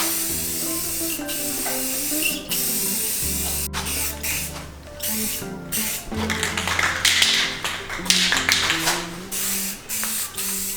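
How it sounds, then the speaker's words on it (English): Clear coat is sprayed from an aerosol can over stickers on a 1960s go kart body, in repeated close hissing bursts of a few seconds each, separated by brief pauses and clicks. "just hit it with some clear coat over the stickers"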